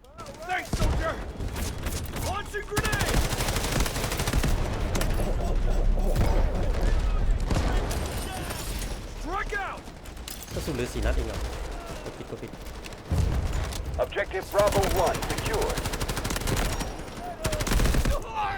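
Sustained, heavy automatic gunfire from a CI-19 rifle in the shooter game Delta Force, with dense, rapid bursts running almost the full length, brief lulls between volleys, and a voice speaking in places.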